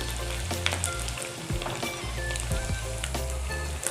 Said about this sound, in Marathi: आता वडे आपले ना छान तेलामध्ये तळलेत.